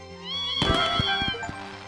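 A cat meows in a Survivors video game as it is petted: a short, bright game meow with a few rhythmic thumps and chimes beneath it, over steady background music.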